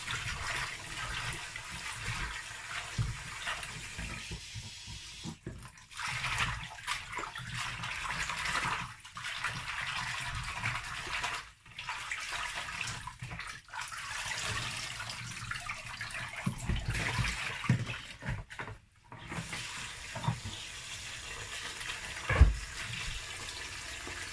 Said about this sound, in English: so now is the ugu. I'm going to rinse.